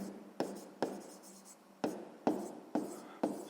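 Pen writing on paper while working a fifth-grade maths exercise, close and quiet, with several quick scratchy strokes and sharp taps as the pen touches down, in an irregular rhythm with no talk.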